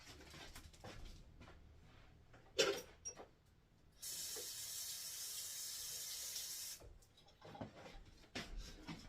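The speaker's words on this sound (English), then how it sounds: "let me wash my hands. My hands are sticky." Water from a tap runs steadily for about three seconds in a kitchen sink while sticky hands are washed during bread baking, with scattered handling clatter before and after.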